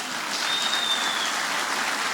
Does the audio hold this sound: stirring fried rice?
no